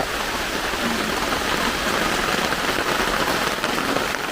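Heavy rain pouring down in windy weather, a dense, loud, unbroken roar of drops hitting surfaces, close by and steady from start to end.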